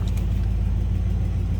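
A 1972 Buick Skylark two-door hardtop's engine settles from high idle into a steady, deep idling rumble, close and continuous with no voices.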